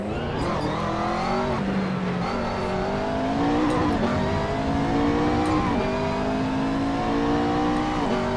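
A race car lapping a track in the Assetto Corsa driving game, its engine tone climbing and dropping steadily through gear changes, with sustained loud revving and the odd tire squeal.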